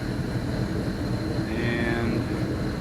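An LS V8 engine from a complete swap package idles at about 700 RPM while warming up, a steady low rumble with a faint whine that stays even throughout, heard close with no talking.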